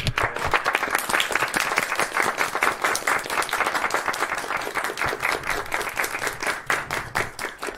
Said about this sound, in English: Applaud for him.